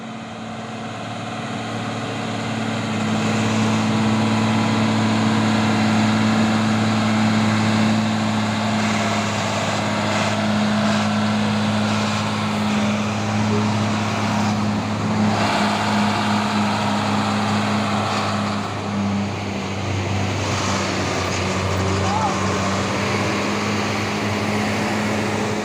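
A trailer truck's heavy diesel engine idles steadily at close range, a deep constant rumble with a low droning hum and no speech throughout.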